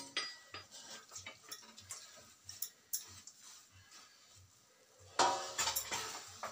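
Sugar being stirred into green moong dal roasted in ghee, with a spoon clinking and scraping against the pan in a steady rhythm and a louder burst of scraping near the end, no talking.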